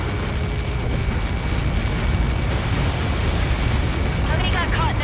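A massive projectile impact explosion in the Ace Combat 7 flight game rumbles as a dense, sustained roar of blast and debris, loud and continuous throughout with a faint chirping at the end.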